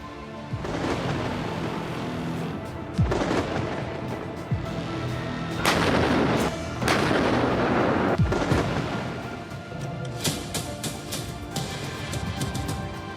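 Artillery fire from Russian attacks on Ukraine: several heavy, booming blasts at uneven intervals, each trailing into a low rumble, followed by a rapid burst of sharper reports near the end.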